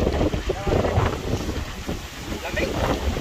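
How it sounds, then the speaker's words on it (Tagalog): Strong wind buffets outdoors with heavy, gusty rumbling across the whole stretch, and a voice is faintly mixed in beneath it. "ang hangin."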